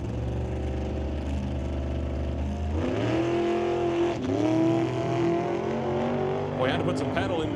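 Drag race car at a Doorwarz XIII eliminations event, engine loud and rising in pitch as it accelerates off the starting line, with a second surge partway through and announcer talk running over it.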